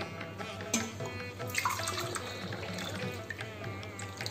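Water pours from a pitcher in a home kitchen while a simple meal is being cooked. The stream splashes and trickles steadily for a few seconds, close and fairly quiet.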